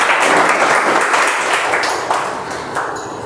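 Audience applause fills a Toastmasters club meeting, a dense, steady wash of many hands clapping throughout, slowly tapering toward the end with no talk over it.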